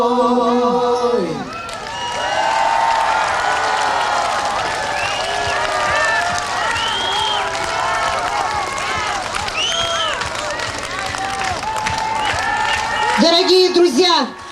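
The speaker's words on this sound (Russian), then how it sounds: "подарите шквал аплодисментов" A large concert crowd in Yakutsk applauds and cheers for a Cossack-style folk singer and her ensemble, steady dense clapping held for most of the stretch, with an announcer's voice at the start and end.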